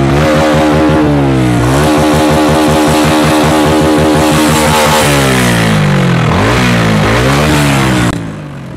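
A TVS Ronin 225 motorcycle engine, two years old and with a suspected seizure, makes an abnormal noise: loud, close revving that rises and falls repeatedly with a rough, harsh tone, heard alone.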